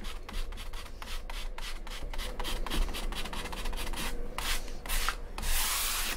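Hand sanding a dark wood-burned pyrography background on a board, a steady rhythmic scratching rub of sandpaper over burned wood, close and continuous with repeated back-and-forth strokes.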